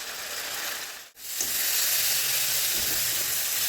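Spice masala frying with tomato in a pan, a loud steady sizzle and hiss that drops out briefly near the start and then resumes, close up with no voices.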